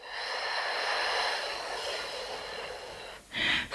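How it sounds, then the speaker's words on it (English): A deep cleansing breath let out through the mouth during a yoga session, a long steady airy exhale followed by a brief sharper breath at the end, close and fairly quiet. "let's take 5 collective cleansing breaths together"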